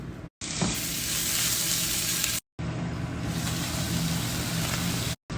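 Food sizzles steadily in a frying pan after being chilled in the freezer, a continuous close crackling hiss broken by two brief silent cuts, with no voices over it.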